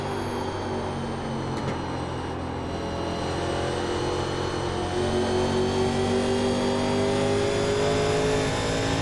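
1987 NASCAR stock car engines in iRacing at Iowa Speedway make a sustained V8 roar that rises slowly in pitch as the cars accelerate off a corner. Several engines blend together in a dense, continuous drone.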